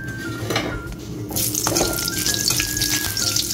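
Dried red chillies fry in hot oil in a pan for a fish-head curry, a steady close sizzle that swells louder partway through, with a faint clink of utensils.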